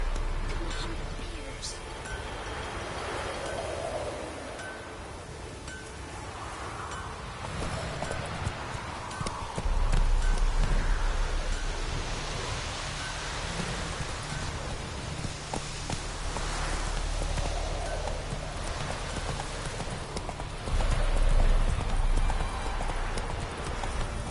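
Horse hooves clip-clopping steadily at a run in The Witcher 3, rhythmic and fairly close against a busy game-world background with occasional speech.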